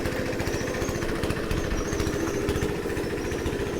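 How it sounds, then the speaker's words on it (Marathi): A chaff cutter machine runs continuously nearby on a buffalo farm, its engine chugging in a fast, even rhythm with a mechanical rattle. "तर इकडं कुट्टी मशीन तशी चालू झालेलं आहे,"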